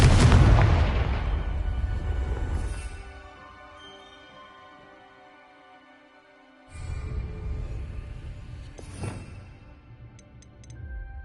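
The Confringo fire spell goes off in Hogwarts Legacy, a loud booming blast that rumbles and fades over a few seconds, followed later by a second, softer burst with crackling tail.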